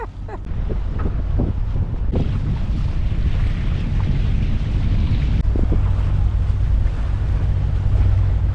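Strong wind buffets the microphone aboard a sailboat pulling away from a dock, a loud steady roar with water washing around the hull and a few brief knocks early on.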